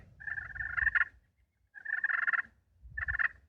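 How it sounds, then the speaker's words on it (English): Three short bursts of turkey purring and clucking from a slate call, close and fairly soft, separated by brief pauses. "I use a slate call primarily to do my clucks and my purrs."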